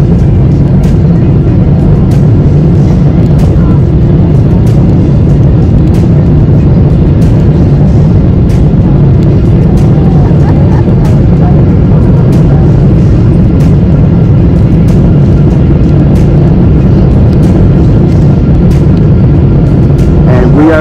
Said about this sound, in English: About to land, ladies and gentlemen.